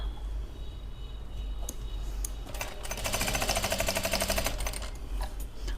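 Sewing machine stitching palazzo pants to repair a torn hem, a short steady run of rapid stitching in the middle of the stretch, fairly quiet against a low background hum.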